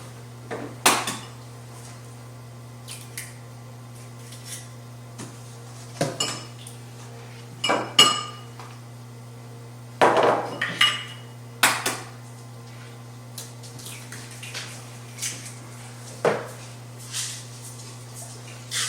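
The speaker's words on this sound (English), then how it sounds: "now we need to crack our eggs" Eggs being cracked into a dish while preparing a breakfast casserole, heard as a series of sharp taps and clinks against the dish spread through the clip, close and moderately loud over a steady low hum.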